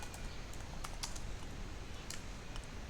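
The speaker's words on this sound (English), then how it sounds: "So we are going to type the command" Command being typed on a computer keyboard: steady, fairly quiet clicking of keys with a few sharper taps standing out over a constant low background hum, no voices.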